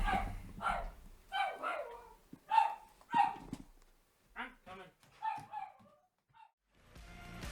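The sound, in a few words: dog barking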